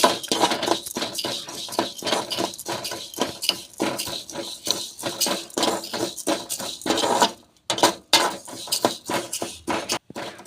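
A spoon scrapes and clinks steadily against a pan as black urad dal roasts in a little oil, the rhythmic stirring close and loud with short pauses near the end.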